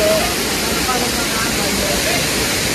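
Loud, steady rush of falling water fills the whole clip without a break, a dense roar like a Himalayan waterfall close by, the water ice-cold.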